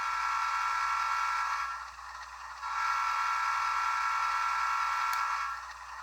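Steady electronic engine hum from a DCC sound decoder in a model train, set low to volume 30, a constant mid-pitched drone that dips briefly in volume, then returns.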